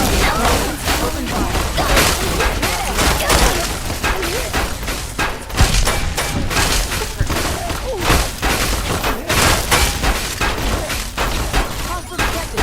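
Gunfire in Fallout 3 and New Vegas crackles in a dense, continuous barrage of loud rapid shots and impacts, with voices calling out under the noise.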